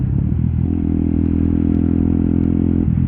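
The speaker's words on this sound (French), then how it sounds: "Alors c'est pas comme ça qu'on prend un rond-point Jackie" A 125cc WRX motorcycle engine runs loud and close as it rounds a roundabout, its steady droning note settling into an even hum before dropping off near the end.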